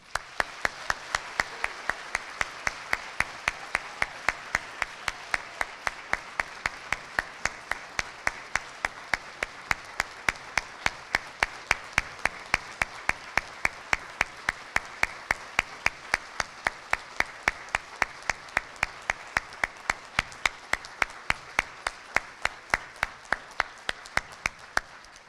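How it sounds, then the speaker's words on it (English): Sustained rhythmic clapping at a law college welcoming ceremony, many hands beating in a fast, even unison pulse that continues steadily and evenly for a long stretch, moderately distant. "please join me in a warm round of applause"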